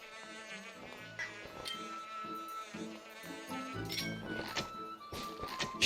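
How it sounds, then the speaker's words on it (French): Wasps buzz in a Zelda Skyward Sword video game scene, their whining drone mixed with game music and effects, moderately quiet throughout with no talking. "c'est même pas des abeilles, c'est des guêpes."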